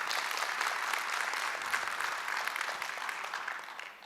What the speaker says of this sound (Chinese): 先给 IV 一个掌声哈